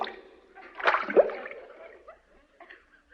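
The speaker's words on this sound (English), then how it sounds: "That was King Farouk in a skin diver suit, 20 feet underwater, applauding Benny Goodman" Comedic radio sound effect meant as applause twenty feet underwater: a short burst of wet, bubbling splashes and gurgles that swells and fades over a few seconds, heard alone.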